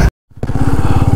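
A motorcycle engine starts up after a brief cut to silence, then idles with a loud, steady, rapid low thrum close by.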